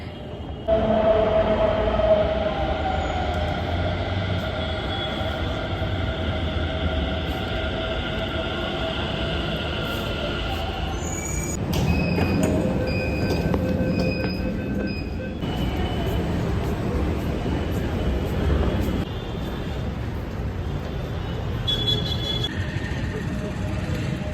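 A metro train in India rumbles steadily with broadband rail noise and whining tones, a brief electronic chime partway through, and faint voices in the background.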